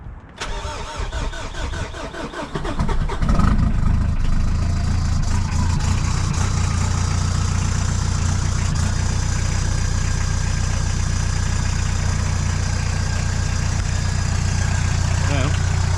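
A diesel engine, fired up after a glow plug job, cranks briefly and catches, then settles into a steady, loud, clattering idle that continues to the end without talk.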